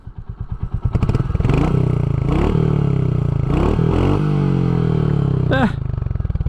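A Royal Enfield Meteor 350 motorcycle with stock exhaust idles close by, a loud, steady thumping single-cylinder putter that rises after a brief startup, with a short voice near the end.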